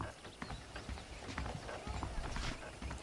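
Saddled horses' hooves clip-clop in the Western video game Red Dead Redemption, a close rhythmic plodding under a voice, with a faint whinny.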